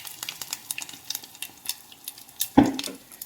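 Mustard seeds and a handful of curry leaves crackling in hot oil for a green mango tamarind curry, a busy run of sharp pops and sizzle with one loud burst near the end.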